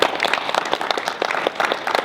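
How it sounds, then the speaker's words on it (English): A small crowd at an inauguration meeting claps in a short burst, with distinct, fairly close hand claps in an uneven, lively rhythm. "Give yourself a round of applause."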